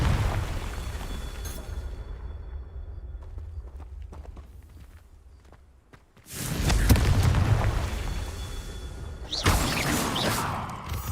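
Repeated Confringo fire spells blasting in Hogwarts Legacy, with loud, dense bursts of impact noise swelling up after a quieter stretch of scattered clatter, then a second explosive surge near the end.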